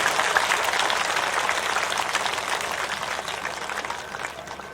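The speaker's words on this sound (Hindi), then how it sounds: "पूज्य वीरगिरी जी महाराज का जोरदार ताली बजा करके स्वागत अभिनंदन।" A crowd at a Bhagavat Katha religious gathering in Jodhpur claps loudly and steadily to welcome a revered guest, a dense continuous wash of applause that eases slightly toward the end.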